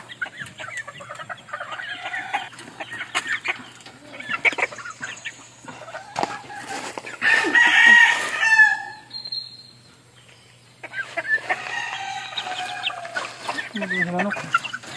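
Backyard chickens cluck and chatter close by in a busy, irregular flurry, with a rooster call rising out of the flock and a brief lull before the clucking resumes.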